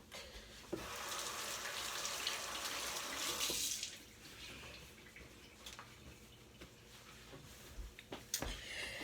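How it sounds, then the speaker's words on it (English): Water runs steadily from a tap into a sink for a few seconds while hands are washed, then shuts off, leaving soft drips and faint handling noises. "I'm going to wash my hands and I'll be back."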